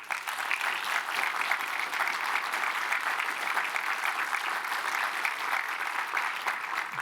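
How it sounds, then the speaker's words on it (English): Sustained applause from a conference audience of the Ruby community at RubyConf 2023, a steady dense wash of clapping lasting about seven seconds with no break and no speech over it. "So give yourselves a round of applause as the assembled Ruby community."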